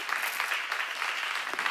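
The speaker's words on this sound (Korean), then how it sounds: "박수 한번 쳐봐." Church congregation clapping at a Korean Christian seminar, a short burst of dense, steady applause filling the room with no voices over it.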